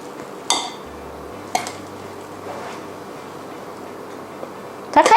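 Oatmeal cookie dough is scooped onto a baking tray, giving a few sharp close clinks and soft scrapes of the scoop against metal, spaced apart over a quiet kitchen background with no talking.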